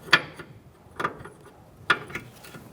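A 24mm wrench cracks loose the jam nut on an outer tie rod of a 2014-2019 Kia Soul, giving three short, sharp metallic clicks spaced about a second apart, fairly faint against a quiet garage background.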